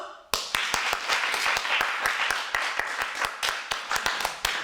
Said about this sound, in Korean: 일단, 박수!